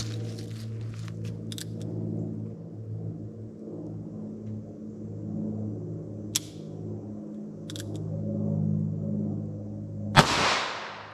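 A single .22 Magnum 40-grain round fired into ballistic gel gives one loud, sharp crack near the end, after a long stretch of low steady hum broken by a couple of faint clicks.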